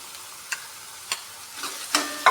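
Onions frying in a pan, stirred with a spoon in a few spaced scraping strokes that grow slightly quicker and louder toward the end, above a faint sizzle, close up and without talk.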